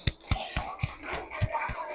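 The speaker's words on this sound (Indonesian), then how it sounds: "kita kasih tepuk tangan dulu untuk kelompok visual" Classroom of students clapping hands for a student presentation group, a handful of sparse, uneven claps spaced apart, fairly faint and close, with no dense ovation.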